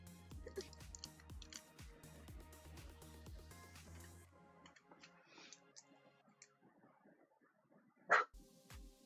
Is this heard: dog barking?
yes